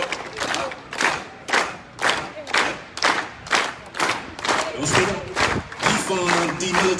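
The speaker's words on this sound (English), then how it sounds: "Everybody clap with me." Rhythmic group clapping at a student rally in Rochester, Minnesota, a crowd striking slow, steady beats roughly twice a second, with shouting voices rising among the claps toward the end.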